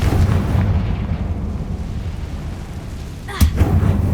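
A Confringo fire spell explosion in Hogwarts Legacy on PS5, a loud booming blast with a low rumbling roar that fades, then a sharp crack and renewed rumble near the end.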